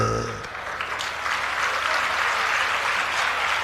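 An audience at a Jain religious sermon breaks into loud applause, a tone fading out at the start before dense clapping continues steadily.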